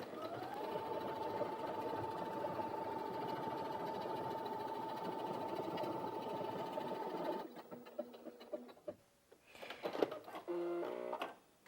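Brother Innov-is F560 sewing machine stitching a scroll pattern, a steady close whirring hum of rapid needle strokes for several seconds, then stopping with a few clicks and mechanical clatters as the presser foot and fabric are handled.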